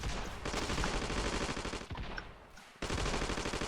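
Automatic weapon fire in the video game Ravenfield rattles in loud, rapid bursts, close and dense, with one brief gap near the end before firing resumes.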